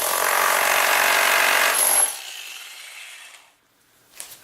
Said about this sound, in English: Their electric 1000 watt jackhammer.